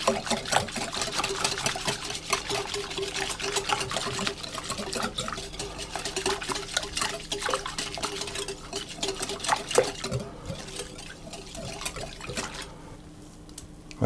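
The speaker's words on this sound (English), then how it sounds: "I'm simply going to whisk those together until they're all nicely combined" Egg yolks and salt whisked together in a bowl, a steady run of quick metallic clicks and scrapes against the bowl lasting throughout, close and fairly loud, with no talk.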